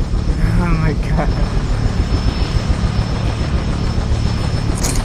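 A helicopter flies erratically overhead on patrol, a loud continuous engine and rotor roar dominating throughout, with a voice briefly heard over it.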